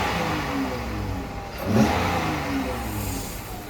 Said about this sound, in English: A small hissing noise to it when you hit the gas a little bit